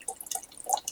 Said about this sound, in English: I'm gonna get hot water now. Y'all have to out of the dispenser.